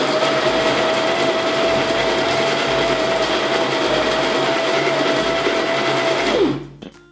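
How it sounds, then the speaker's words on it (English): A Baratza Encore coffee grinder runs with a loud, steady motor whir and a grinding rasp for about six seconds, then winds down and stops near the end. "If you ever need to grind, then you just switch in the on position and it will grind for as long as it is sitting in that position."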